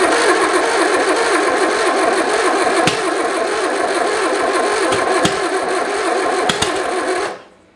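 A 1976 MG Midget, left sitting abandoned, cranks and catches, its engine running loud and rough with a few sharp pops like backfires before cutting out abruptly near the end.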